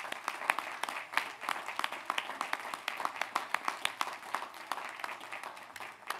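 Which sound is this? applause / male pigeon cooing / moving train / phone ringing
applause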